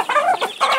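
A hen with newborn chicks clucks close by in a quick series of short, throaty notes, loud and clear with nothing else behind it.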